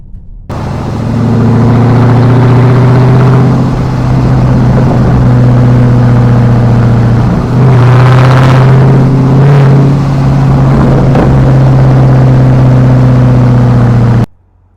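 A Dodge Durango SRT 392 SUV's V8 drones loudly and steadily from start to end, swelling into a couple of brief revs around the middle, heard from inside the cabin with no talking.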